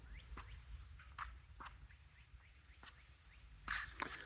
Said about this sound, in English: What do you hear? Birds.